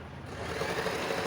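A sewing machine stitches a blouse lining in a steady, continuous mechanical whir, moderately loud and uninterrupted with no talking.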